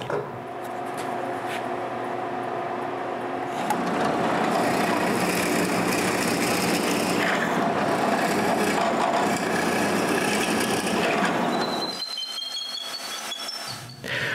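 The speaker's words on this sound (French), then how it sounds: "je peux aller sur la perceuse puis percer un trou de chaque côté, directement sur la ligne" A drill press bores holes through wood for a mobile workbench, giving a steady loud whirring grind that holds for about eight seconds before the motor winds down and stops.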